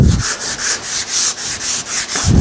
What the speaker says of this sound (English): I'm going to finish up by sanding it